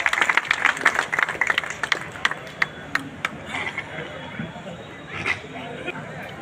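A crowd at a Holi celebration gathering claps in a dense burst of applause that gradually thins out into scattered claps and murmuring voices.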